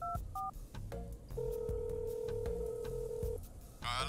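Telephone keypad tones beep in quick succession, followed by a long steady dial or ringback tone, as a phone is dialed in an anime scene; clear and close with no talk.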